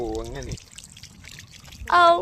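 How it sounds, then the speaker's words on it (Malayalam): A mountain stream trickles softly at Poppeltal, a low, steady wash of running water heard between bursts of a nearby person talking at the start and end. "വെള്ളം കണ്ടേ"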